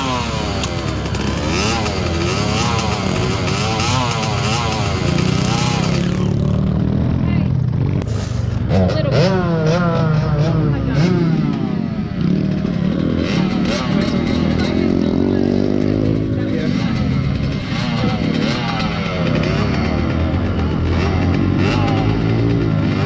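A pit bike engine revs and buzzes continuously at a dirt track, the pitch rising and falling as the throttle changes, while people talk nearby.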